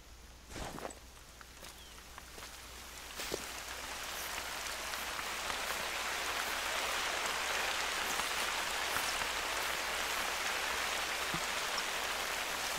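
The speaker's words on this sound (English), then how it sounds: "It's like pouring down frickin' rain." Steady rain pours down in theHunter: Call of the Wild, a dense hiss that swells and holds, with scattered drops and a few soft thuds near the start.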